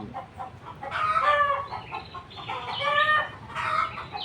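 Chickens clucking inside a backyard chicken coop where they scratch through collected leaves, a few bursts of close, overlapping calls over a steady low rustle.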